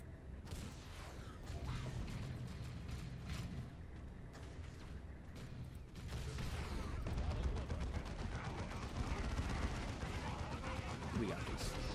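Gunfire and blasts from the Warhammer strategy game Dawn of War 2 on hard difficulty, a constant crackle of shots with heavier thuds swelling midway, mixed with clanking mechanical noise and someone talking over the battle.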